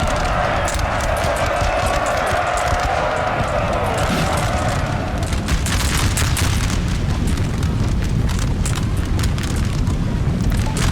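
Musket volleys in the Napoleonic-era strategy game Napoleon Total War, heard as a dense, continuous battlefield roar of rumbling booms and crackling shots layered over ambient crowd noise throughout.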